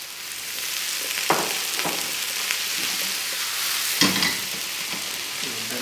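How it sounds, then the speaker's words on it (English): Onions fry in a pan with a steady, close sizzling hiss, broken by a few sharp bursts as they are tossed and stirred until golden brown, with no voices. "when we toss it in the pan like this, you know, and make it golden brown"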